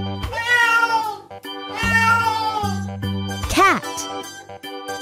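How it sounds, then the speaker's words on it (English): Several drawn-out cat meows in succession, loud and close, with a brief rising-falling cry near the end and faint jingling over a steady low background. "Cat."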